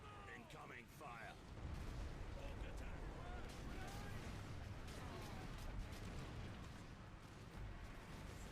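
Artillery fire in the Warhammer 40K Space Marine video game, a steady rumbling barrage of booms and bursts filling the scene at moderate level, with battle noise continuing throughout.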